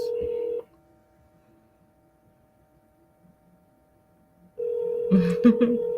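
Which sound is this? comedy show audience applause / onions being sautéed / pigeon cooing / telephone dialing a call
telephone dialing a call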